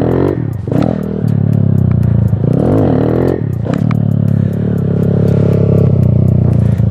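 Motorcycle engine revving repeatedly during wheelie practice, several sharp throttle blips and surges separated by gear clunks and rattles, loud and close, each rev rising and falling in a choppy rhythm.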